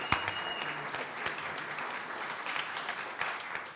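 A museum audience claps at a panel discussion. The moderate, steady applause has distinct individual claps standing out, heard from a slight distance.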